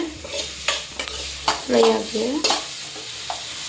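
Food frying in a pan for a quick paneer gravy, with a low sizzle and a series of distinct scraping, clacking stirs from a spoon against the pan, close up and uneven in rhythm.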